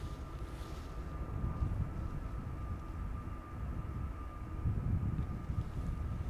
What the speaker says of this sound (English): The next airplane is probably going to get loud.